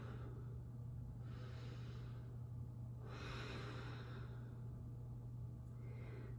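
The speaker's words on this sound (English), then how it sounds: "Take 3 more breaths here." Slow, deep yoga breaths taken in child's pose, soft airy inhales and exhales rising and falling in long unhurried cycles over a faint steady hum, close and quiet, no speech.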